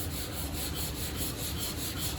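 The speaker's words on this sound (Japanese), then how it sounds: "少しね1ミリぐらいこのペーパーずらして、で、 斜めにね そういうふうに 少しね、少しここ若干浮かせるような感じで、ここだけで研ぐような感じで" Sandpaper rubs by hand across painted car body panel, a steady, soft, even scratching hiss with faint rhythmic strokes and no talking.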